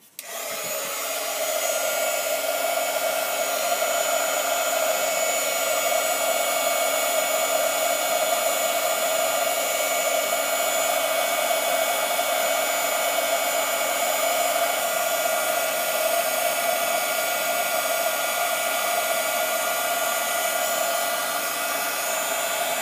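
A heat tool blows a constant, loud whirring hiss while melting embossing powder on a card, switching on at the start and running unbroken for over twenty seconds with no talk.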